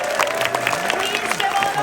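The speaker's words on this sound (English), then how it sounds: "I don't want you to stop clapping till you see him hit the stage." A Fan Expo convention audience applauds steadily, dense and loud clapping throughout with light crowd noise, as the crowd waits for Christopher Lloyd to take the stage at a Back to the Future reunion.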